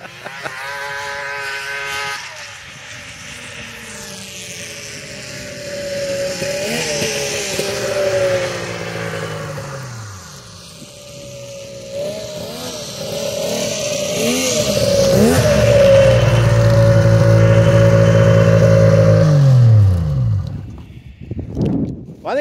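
Polaris Indy snowmobiles racing laps on a flat track, two-stroke engines revving and rising in pitch as sleds pass, loud and close with a sustained roar toward the end.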